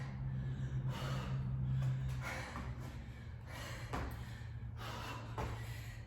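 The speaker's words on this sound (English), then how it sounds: "I know I breathe loudly." Heavy, loud breathing through the mouth during a weight workout, a steady run of long breaths close to the mic, with no talking.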